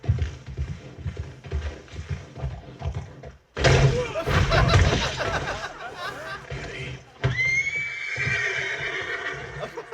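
Horse neighing in Red Dead Redemption 2, a loud whinny bursting in mid-clip over game sounds and hoofbeats, followed by a second, higher drawn-out whinny near the end, with speech around it.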